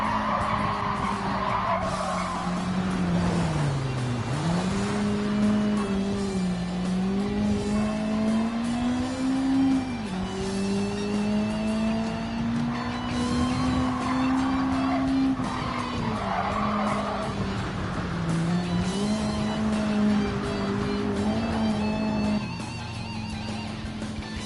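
In Gran Turismo 7, a 6-cylinder Camaro of about 328 horsepower drones continuously with a wavering engine pitch and tire squeal through corners, steady and loud for the whole stretch.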